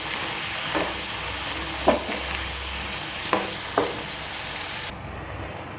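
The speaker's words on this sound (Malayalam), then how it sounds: "നന്നായി ഒന്ന് ഇളക്കി കൊടുക്കാം" Snake gourd curry stirred in a pan, four distinct scraping strokes over a soft steady sizzle, the cooking noise dropping away near the end.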